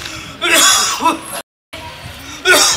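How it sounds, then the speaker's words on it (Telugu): An old man coughs in harsh, wet bursts, two clusters of loud, close coughing separated by a brief silent gap. "అయ్యో బాగా దగ్గుతుంది కాదే"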